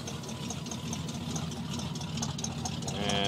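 A 1985 Chevrolet pickup engine with an electric choke idles right after a cold start, a steady, loud, rough rumble with an uneven beat that holds on throughout and swells slightly near the end, with no voices.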